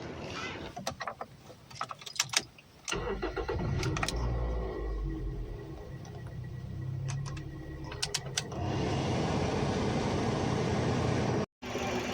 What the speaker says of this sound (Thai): เรามาดูเครื่องยนต์นะครับ ว่าเครื่องยนต์ ใช้การได้ดีหรือไม่ครับ เราลองไปสตาร์ทดูครับ